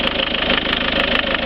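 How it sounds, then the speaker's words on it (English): Turbo engine of a Ford Transit motorhome running at idle, a loud, close, steady diesel drone with a pulsing rumble throughout and no talk over it. "there's no problems with that engine at all"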